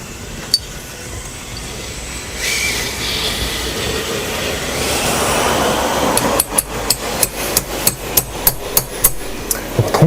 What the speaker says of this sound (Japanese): トンカチすごいですね。